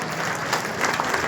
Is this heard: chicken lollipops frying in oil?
no